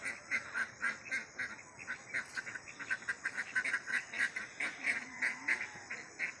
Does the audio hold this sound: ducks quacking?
yes